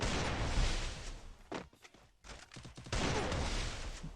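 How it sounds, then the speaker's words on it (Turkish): Rapid automatic gunfire from an MP5 submachine gun in a shooter game, in loud sustained bursts broken by a short gap with a few scattered shots and movement sounds. "Hani var kardeşim hemen taramalı silah almışsın."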